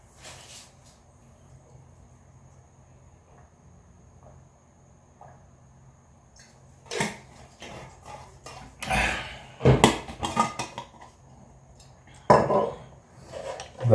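Dishes and pots being washed by hand, with scattered clatters and scrapes of metal and crockery growing louder and busier toward the end after a quiet start.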